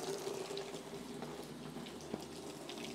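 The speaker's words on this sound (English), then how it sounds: "So let's go ahead and fill up their bucket." Water runs steadily into a horse's water bucket in a barn on a hot summer day, a continuous close splashing fill with no voices.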